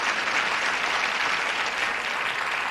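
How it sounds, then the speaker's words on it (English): Studio audience on a game show applauds a contestant, a dense, steady wash of clapping filling the whole stretch at even loudness with no voices on top. "Nice round of applause for her."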